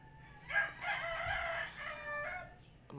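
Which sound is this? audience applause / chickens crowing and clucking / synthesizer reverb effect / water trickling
chickens crowing and clucking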